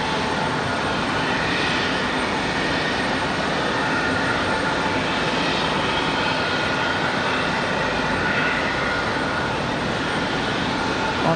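Airplane arriving at Raleigh Durham airport, a loud, continuous engine roar that stays broad and steady throughout, heard from nearby with no talk.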